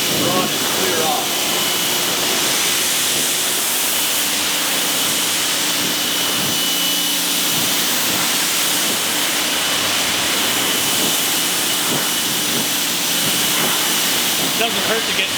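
A hose sprays water to rinse ceramic foam off a car during detailing, a loud continuous hissing rush that holds steady throughout, with voices faintly under it.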